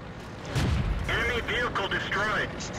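A tank's main gun fires a single boom while the World of Tanks T14 heavy tank is moving, with engine rumble behind and someone talking over it.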